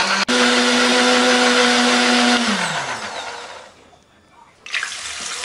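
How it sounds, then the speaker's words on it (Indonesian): A blender grinding spices with water whirs loudly and steadily, its motor pitch dropping as it winds down, then a brief faint hum and a short burst of rattling. "tambahkan air supaya lebih gampang untuk menghaluskannya"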